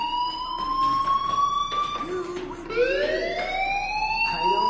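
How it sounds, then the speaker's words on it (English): A fire alarm in a video game wails without a break, its tones sweeping upward again and again for nearly five seconds over a busy background. "do you hear that fire alarm? That means you should be outside."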